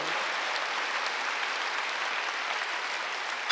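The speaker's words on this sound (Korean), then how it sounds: "믿는 사람만 박수 한번 주세요." A Korean church congregation gives a round of clapping during a Sunday worship service, a fairly soft, steady patter ending in a sharp louder sound at the close.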